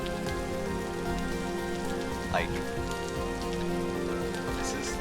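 Steady rain falling in a video game world, a soft continuous patter of drops at low volume, with a brief spoken word and a faint high chirp partway through.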